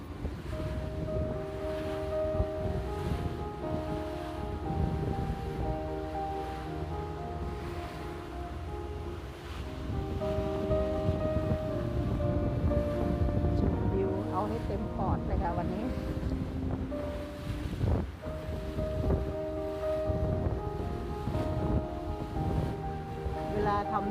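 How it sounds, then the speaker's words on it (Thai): Strong wind gusting across a riverside near a dam in autumn, with leaves falling, a steady loud broadband rush that swells after the midpoint and continues throughout, with a voice talking over it. "ตอนนี้ลมแรงค่ะ"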